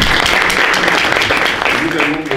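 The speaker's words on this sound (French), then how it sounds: "Nous aimons beaucoup les applaudissements en Afrique, même quand on ne dit rien" An audience at a university conference applauds in a dense, steady wash of clapping that stays loud for the whole stretch.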